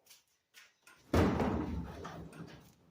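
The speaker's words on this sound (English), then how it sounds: "I'm going to crack my barn door open slightly so the exhaust fumes can go out" A heavy wooden barn door rolls open with a low rumbling scrape after a few faint knocks, the rough grinding fading gradually.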